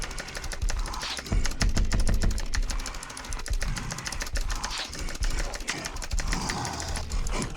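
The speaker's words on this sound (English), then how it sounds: "The other trouble is this is just loud, so I apologize for that. It's just a cookie keyboard." Rapid clattering keystrokes on a loud mechanical computer keyboard during a Grime II speedrun, dense and continuous bursts of close clicks with brief pauses and occasional heavier thumps.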